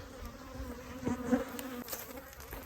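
Honey bees buzz steadily around an opened beehive colony in the Texas Hill Country in spring, a continuous moderate hum with a slight swell near the middle.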